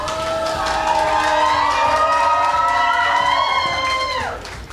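A crowd at a talent show grand final cheers and shouts loudly and continuously for a finalist, with high whistles or whoops in the mix before the noise cuts off near the end.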